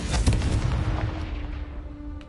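A Confringo fire spell blasts off in Hogwarts Legacy, a booming explosive burst with a crackling onset that rumbles and fades away over a couple of seconds.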